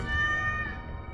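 A cat in a video game lets out one sustained, tonal meow that fades over about a second. It is close and clear over a low, steady background rumble, and nobody speaks.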